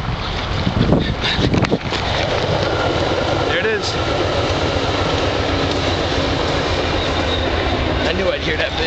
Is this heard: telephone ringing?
no